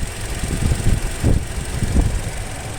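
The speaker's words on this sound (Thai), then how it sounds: "มาอยากให้คนฟังเสียงเครื่องยนต์ รถแสนกโลนะฟังเสียงเครื่องเป็นไง" A restored, 15-year-old Toyota Altis engine idles steadily, a low rumbling hum with a few gentle surges in its rhythm, heard close up and alone.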